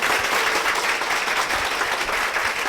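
A church congregation applauds for a speaker, a dense, even round of clapping throughout with no voices.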